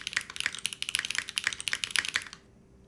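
Rapid typing on a custom Sat 75 X mechanical keyboard fitted with silicone mods, a dense run of close, muted clacks for about two seconds before falling silent.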